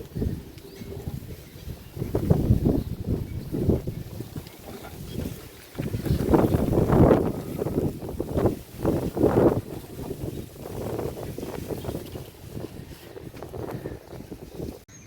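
Strong wind from Cyclone Remal blows across a Kolkata rooftop garden in rough, roaring gusts that swell and fade, buffeting the microphone with a low rumble.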